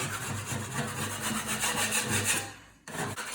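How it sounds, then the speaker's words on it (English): A scraper drags repeatedly across a drywall patch, knocking down ridges of dried joint compound. The close, rhythmic rasping strokes run steadily, then a brief pause comes before scraping resumes. "So the first thing you want to do is scrape down heavily the ridges."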